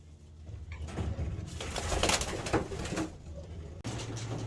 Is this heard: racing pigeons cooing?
yes